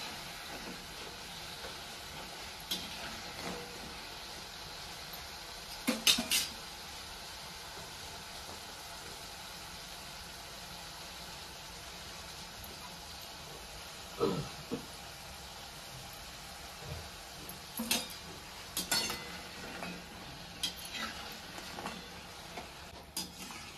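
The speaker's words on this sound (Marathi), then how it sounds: "आता मी अशा कडक चांगल्या खुसखुशीत शंकरपाळ्या तळून घेतल्या त्या" Maida shankarpali snacks deep-frying in hot oil, a steady soft hiss of bubbling oil throughout, broken by a few brief clatters of a utensil against the pan, no talking.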